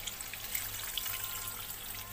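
Water pours into a cooking pot for a Malaysian mackerel asam dish, a short, steady trickling splash heard up close.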